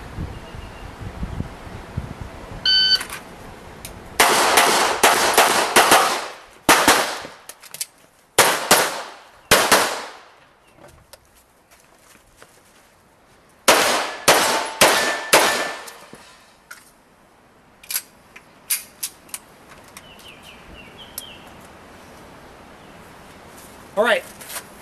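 A pistol fires in quick bursts across a practical shooting stage, sharp close cracks mixed with ringing metallic clangs from hits on steel targets, broken by short pauses and a sparse final string, with a voice at the start.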